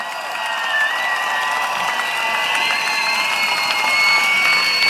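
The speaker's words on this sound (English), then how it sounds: "Please give them a big round of applause." A large crowd at an outdoor political rally in a stadium breaks into sustained applause and cheering, dense and steady and swelling slightly, with no speech over it.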